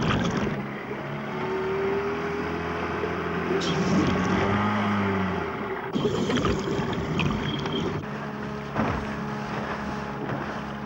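High-speed pleasure motorboats drone and shift as they pass nearby in sea otter waters, with wind buffeting and splashing water.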